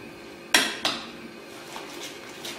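Garlic is mixed into tomatoes in a bowl, two quick clinks of a utensil against the bowl followed by softer scraping and tapping, close by in a quiet kitchen.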